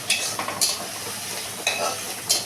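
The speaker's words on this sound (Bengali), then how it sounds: "পেঁয়াজটা হালকা ভেজে তারপরে আমরা মানে একদম কম স্টিমে এটাকে একটু ভেজে নিতে হবে" Onions fry gently on low heat, a soft background sizzle broken by a handful of sharp, close scraping stirs of a utensil across the pan.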